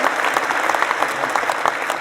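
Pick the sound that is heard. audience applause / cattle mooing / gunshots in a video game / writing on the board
audience applause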